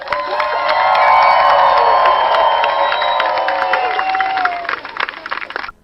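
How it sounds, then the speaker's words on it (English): A crowd applauds and cheers loudly, with whoops and shouts rising over the clapping before it trails off into scattered claps. "So go ahead and give them their round of applause."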